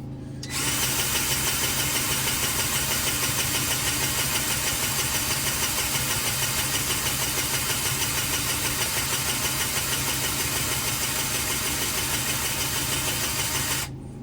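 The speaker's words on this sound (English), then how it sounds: "go around it twice with the pneumatic gun" A pneumatic grease gun runs continuously while packing grease into a bearing on a benchtop packer, a loud steady mechanical hiss and drone that starts and stops abruptly.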